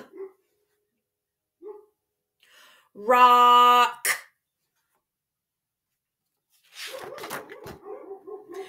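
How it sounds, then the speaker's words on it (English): Dogs bark indoors in a burst: a loud, harmonic bark run followed by a sharp yip, then more rapid barking and whining later, with brief faint voices between. "my dogs are barking"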